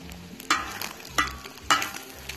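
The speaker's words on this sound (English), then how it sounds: "I got the eggs cooking." Eggs frying on a Disc-It disc cooker at a New Mexico campsite, with a steady sizzle broken by three sharp bursts of scraping or stirring, close and clear, no talking.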